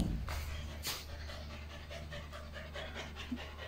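A dog panting indoors at home, quick rhythmic breaths close to the listener, with a faint whimper near the end and no talking.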